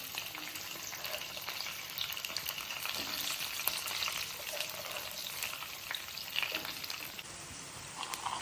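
Onions, green chillies and curry leaves fry with whole spices and bay leaf in oil for a soya granules pulav, giving a steady, close crackling sizzle with occasional stirring scrapes throughout.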